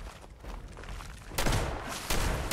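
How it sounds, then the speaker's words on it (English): Muffled gunfire rattles at a distance in the Fallout 76 wasteland during Nuclear Winter mode, with steady low rumble and two louder bursts of shots cracking out later on. "I hear shooting somewhat far"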